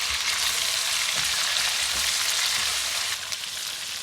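Chicken sizzling in hot oil as ginger, garlic and green chili paste are stirred in, a steady dense frying hiss with faint scraping of the spoon, close and continuous with no talk.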